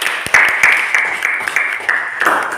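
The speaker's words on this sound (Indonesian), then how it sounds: "tepuk tangan untuk kita semuanya" Applause from a class of students at a teacher-training practice lesson, a dense wash of clapping that swells and fades over a couple of seconds, with a few sharper near claps standing out.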